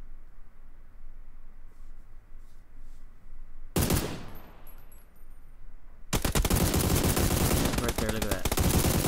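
Gunfire in the video game PUBG comes first as a single sharp burst, then after a pause as sustained rapid automatic fire, loud and close.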